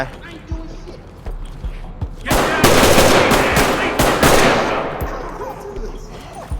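In the video game Ready or Not, a burst of rapid automatic gunfire erupts after a few quieter thumps, loud and sustained for several seconds before tapering off.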